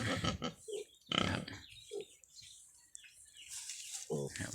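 Crossbred wild boar and native pigs on a farm grunt and squeal in several short bursts, close by, with faint bird chirps in the background.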